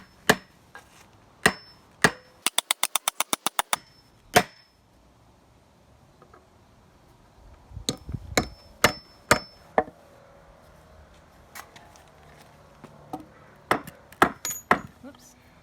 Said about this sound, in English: Okay, final 2 nails.